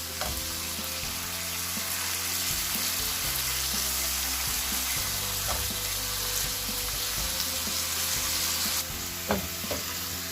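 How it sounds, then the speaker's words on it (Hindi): Chicken tikka pieces fry in a pan as a pizza topping, giving a steady, loud sizzle throughout with occasional soft stirring clicks and scrapes; no one speaks. "मैं थोड़ा सा इसको और पकाऊंगी ताकि चिकन का कच्चापन खत्म हो जाए"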